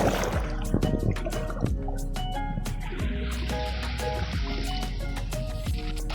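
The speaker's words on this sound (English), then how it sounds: "paddle out to a deeper water." A rented fishing kayak is hand-paddled out toward deeper water, close splashes, drips and sloshing strokes repeating irregularly over a low steady background hum.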